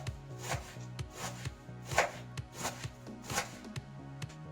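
A knife chops pumpkin leaves on a board in a quick, steady rhythm of about a dozen crisp strokes, close and fairly quiet, with no voices.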